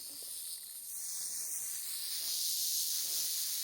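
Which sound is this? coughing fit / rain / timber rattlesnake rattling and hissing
timber rattlesnake rattling and hissing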